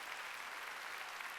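A church congregation at a Wednesday service applauds steadily in a brief, even burst of dense clapping, faint and distant, with no voices over it.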